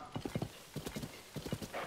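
Rhythmic clip-clop of a horse's hooves at a walking pace in the Zelda: Tears of the Kingdom video game, with a brief whinny near the end, steady and fairly close.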